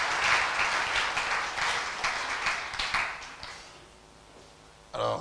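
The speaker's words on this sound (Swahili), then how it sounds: "Est-ce qu'on peut acclamer le Seigneur? Tumpigie Bwana makofi." A church congregation bursts into loud applause, a dense wash of clapping that gradually thins and fades, followed by a short burst of sound at the end.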